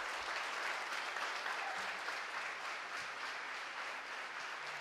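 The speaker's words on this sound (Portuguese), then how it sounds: "A igreja dê ao Senhor uma forte salva de palmas." Church congregation giving a strong round of applause, a broad, even roar of many hands clapping heard from a distance, sustained without breaks and fairly faint in a large hall.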